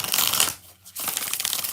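Tarot cards shuffled by hand in a dense, papery riffle that drops out briefly midway, then resumes at close range with no voices.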